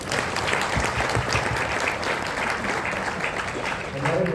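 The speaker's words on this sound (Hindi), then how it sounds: "उनके लिए जोरदार तालियां।" An audience at a gathering gives sustained applause, a dense, steady clapping throughout, with a voice speaking over it near the end.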